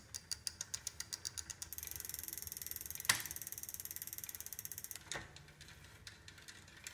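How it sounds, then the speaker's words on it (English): Steady rapid clicking from a SRAM iMotion 3 internal gear hub on a Gates Carbon Drive belt bicycle, a ratcheting tick repeating evenly, pausing briefly once and then resuming, close and fairly quiet. "The only complaint I would say about the SRAM iMotion 3 is that clicking sound."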